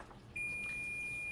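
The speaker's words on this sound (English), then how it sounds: "There's the beep." A tea timer beeps after five minutes of steeping: a single steady high-pitched electronic beep starts abruptly and holds as one continuous tone, clear above a quiet room.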